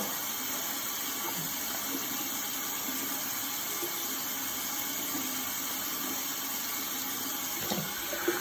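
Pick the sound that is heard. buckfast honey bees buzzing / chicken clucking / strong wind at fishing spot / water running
water running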